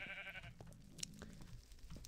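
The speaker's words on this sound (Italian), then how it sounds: "Perché c'è una pecora nel land, madonna?" Sheep bleats in a Minecraft-style ant farm survival game, a couple of clear wavering calls at the start followed by quieter game ambience and faint clicks.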